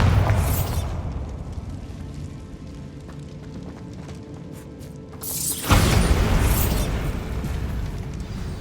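A Bombarda spell explosion in Hogwarts Legacy lands as a close, loud boom with crumbling debris. A first rumbling blast fades, then a sharp, heavier detonation hits and tails off into a long rumbling decay.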